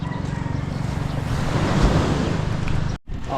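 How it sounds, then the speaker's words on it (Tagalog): Small ocean waves wash at the shore in a steady broadband surf with a low rumble of wind, swelling slightly and then cutting off abruptly near the end. No one speaks. "Lumit na ulit ang alon."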